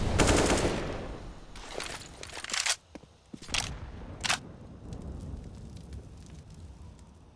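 Rapid gunfire in a Counter-Strike match on the Nuke map, with sharp bursts of shots clustered early, then a few isolated cracks, over a low steady background of game ambience.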